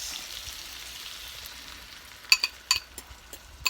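Eggs hit hot oil in a pan while special fried rice is being made, giving a soft, steady sizzle followed by several sharp crackling pops near the end; no talking.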